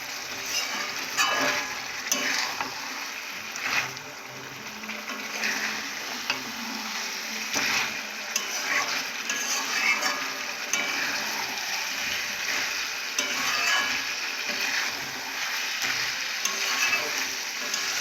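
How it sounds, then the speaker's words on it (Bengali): Food being sautéed in a pan for a home-style thali, with a continuous sizzle and frequent spatula scrapes and clinks against the pan over about eighteen seconds, no speech. "এইভাবে কিছুক্ষণের জন্য কষে নেব"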